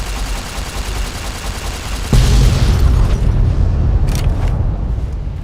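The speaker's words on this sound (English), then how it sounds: "Oh, it's a missile. Let's blow it up." A missile blowing up in Fallout New Vegas, a heavy, loud boom that kicks in abruptly over steady game rumble and then rolls on as a sustained roar, with a couple of faint later crackles.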